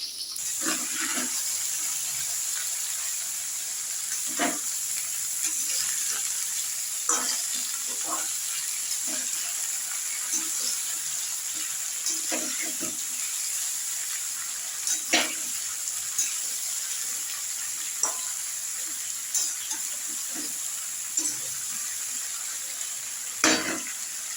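Ash gourd pieces hit hot oil in a pan for a mustard-based curry, giving a continuous bright sizzle with scattered clinks and stirring taps throughout.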